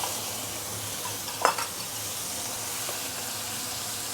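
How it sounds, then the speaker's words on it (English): Prawns frying in hot oil in a deep pan give a steady, even sizzle all the way through, with one brief louder crackle about a third of the way in. "We will pan fry the prawn for somewhere around 3 minutes."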